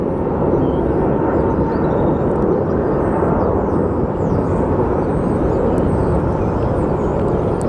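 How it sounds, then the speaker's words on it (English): An Airbus A321neo departing Phoenix Sky Harbor Airport roars with a broad, steady jet engine rumble, loud and continuous throughout with no breaks. "And then we have the Neo, the A321 Neo that's departing right now."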